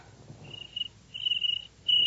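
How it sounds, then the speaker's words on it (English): Cricket chirping in a radio drama, three short bright chirping bursts spaced through the clip over a quiet low background, fairly faint and alone. "I'm not coming back to this house until that cricket is gone."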